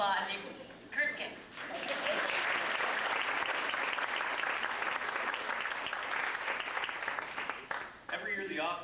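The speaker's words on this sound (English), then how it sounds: "he's waiting for some applause" Steady crowd applause fills most of the stretch, with people talking briefly at the start and again at the end.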